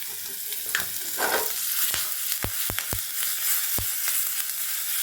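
Green chillies sizzle with popping mustard seeds and asafoetida in a spoonful of hot oil for brinjal pachadi, a close steady frying hiss broken by several sharp crackles and a few spoon taps.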